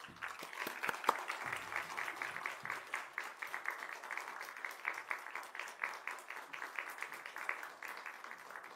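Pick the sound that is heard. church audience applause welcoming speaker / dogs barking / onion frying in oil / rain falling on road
church audience applause welcoming speaker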